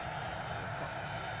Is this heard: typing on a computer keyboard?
no